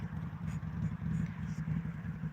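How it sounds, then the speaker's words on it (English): A loud motorbike engine drones steadily close by, a low throbbing rumble that holds throughout without fading. "Really loud motorbike."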